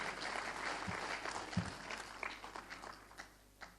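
An audience at an all-India mushaira poetry gathering in Patiala applauds for a doctor-poet, a fairly faint, distant patter of clapping that thins out over a few seconds.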